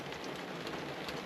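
Steady rain in the Okavango, Botswana, an even, dense hiss of drops that stays constant from start to finish without any talking.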